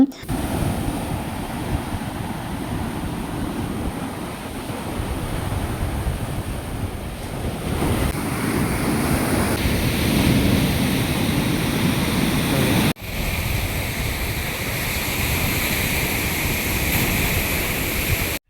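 Sea waves wash onto a beach at night under moonlight, a steady, continuous roar of surf mixed with wind buffeting the microphone, with no voices throughout.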